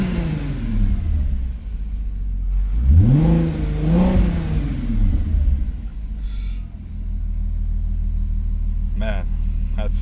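Volkswagen MK2 Jetta coupe with a swapped 3.2 VR6 engine, hood up, idling with a deep loud rumble, then revved twice in quick succession with rising and falling engine pitch, before settling back to idle; a person speaks over it.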